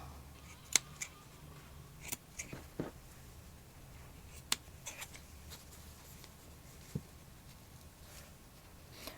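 Scissors snip in a handful of sharp, scattered cuts, quiet and close against a soft background.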